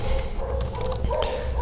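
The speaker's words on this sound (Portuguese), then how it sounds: "os cachorros do vizinho começaram a latir" Neighbours' dogs barking faintly in the distance, a few short yips over a steady background hum indoors.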